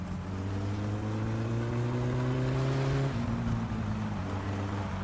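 Car engine in My Summer Car droning steadily with strong low harmonics, then briefly dropping and shifting pitch as gears change, a slight stutter before settling at a new lower tone.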